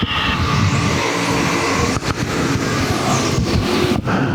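Race cars roaring around the dirt oval at Devil's Bowl Speedway, a loud continuous engine drone with brief dips as cars pass, heavy wind buffeting, no talking.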